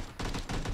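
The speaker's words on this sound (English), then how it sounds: "it's just that one dude Tyler's shooting at" Gunfire in the video game PUBG, a loud close burst of rapid shots in quick succession over under a second.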